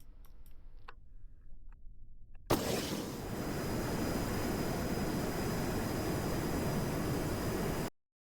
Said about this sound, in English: This plane's really loud.